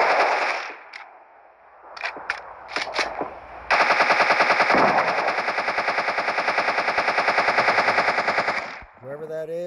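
Full-auto weapon fire in PUBG Mobile, a long sustained burst of rapid, evenly spaced gunshots after a few scattered single shots, loud and close, ending abruptly.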